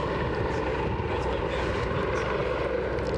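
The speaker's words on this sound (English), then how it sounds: "As you can hear from the background noise, we have a chopper that can't be far away from going out either." A helicopter at Aberdeen airport makes a steady, dense rotor and engine roar that holds loud and unbroken from start to finish, with no clear voices over it.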